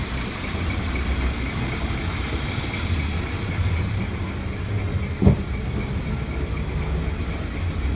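A Chrysler 340 engine in a 1967 26-foot Lyman hardtop boat drones at an even pitch throughout, with a brief sharp knock partway through, and no voices.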